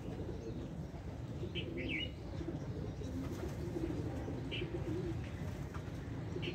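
A Teddy pigeon kept at home cooing softly and intermittently at moderate distance, with a few brief higher chirps over a steady low background hum.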